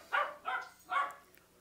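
A dog barks three times in quick succession indoors, short moderately loud yaps evenly spaced, then quiet.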